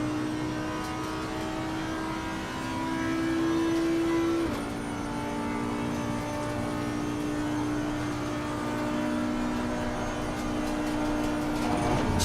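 Race car engine held at full throttle in a sim racing game, a sustained steady drone with a pitch step partway through as it shifts gear, loud and continuous without talk.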